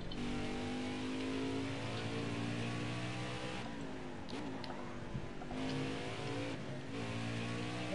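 Race car engines roar in a racing video game, a loud, continuous high-revving drone with pitch rising and dipping through gear changes and brief lifts off the throttle, steady throughout the stretch.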